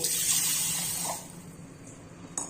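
Water pours from a tap over soaked green gram in a kitchen vessel, a steady close gush that eases off partway through, followed by quieter trickling and a brief splash near the end.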